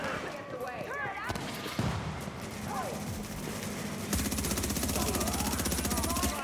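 Sustained video game gunfire, a steady crackle of shots that turns into a rapid automatic burst near the end, with someone talking over it.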